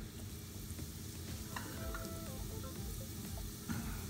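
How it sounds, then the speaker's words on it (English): Cumin seeds toasting in a pan for turmeric mashed potatoes, a steady crackling sizzle with light stirring scrapes, close and continuous with no voices. "Cumin seeds, toast them really good."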